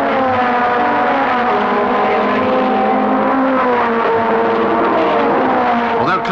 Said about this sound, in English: Cars on a circuit that permits lap speeds around the magic 100.